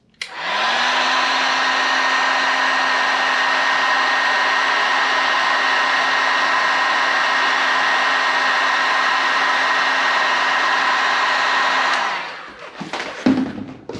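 A heat gun warming marine shrink wrap on a motorcycle brake wire blows a loud, steady whirring hiss for about twelve seconds, then cuts off and winds down, followed by brief handling clatter.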